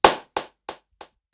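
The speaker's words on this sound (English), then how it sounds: "but with a delay effect, our clap would sound like this" A single hand clap with a delay effect repeats as five evenly spaced echoes, each quieter than the last and fading out over about a second and a half.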